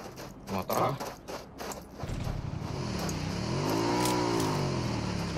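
A motorbike engine in a tactical shooter game revs and drones steadily, rising and falling in pitch, while players talk over it and a few sharp game sounds come early.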